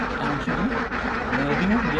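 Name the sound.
ducks quacking on a duck farm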